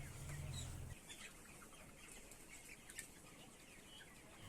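Chickens cluck and chirp inside a poultry farm shed, a dense, faint chorus of many birds carrying on steadily throughout, with a brief low rumble near the start.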